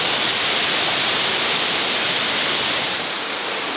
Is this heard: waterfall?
yes